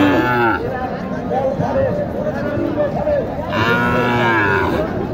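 A Sahiwal cow at a cattle market in Naogaon lows twice, long drawn-out moos near the start and again after a pause, with market crowd babble throughout.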